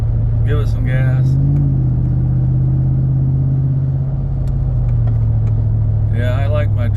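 A deep, rough engine rumble from a truck running without a muffler holds steady and swells slightly as it accelerates, with voices talking over it at the start and end.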